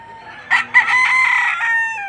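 A single rooster crows nearby at a chicken market in Padre Garcia, Batangas, a clear, loud cock-a-doodle-doo lasting under two seconds.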